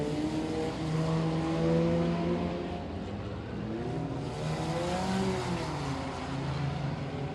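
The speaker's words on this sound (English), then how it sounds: "26 cars still rolling." Pack of race cars circling a short track at a 7 Rivers Racing event late in the race, engines droning steadily with layered harmonic tones that rise and fall as cars pass, continuous and moderately loud with no talk.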